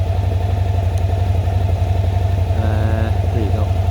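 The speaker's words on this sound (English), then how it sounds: "The engine is beautifully silent, no knocks, rattles, bangs" Aprilia Mana 850 motorcycle engine idling with a steady, low, even rumble, close and continuous, with a brief faint tonal whine partway through.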